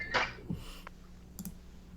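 Computer mouse clicks while browsing a book app, with a few sharp isolated clicks spaced apart against a quiet background.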